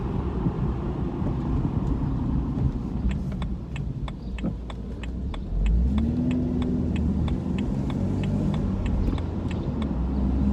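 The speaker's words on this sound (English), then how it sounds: "the engine sounds very healthy" An engine-swapped BMW Z4 hums steadily nearby, with a rising tone partway through as it picks up speed, over a ticking rattle.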